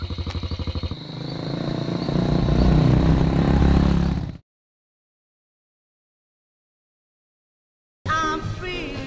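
A motorbike engine runs loud and close for about four seconds with a steady throaty roar, then cuts to silence before a short burst of noise returns at the end.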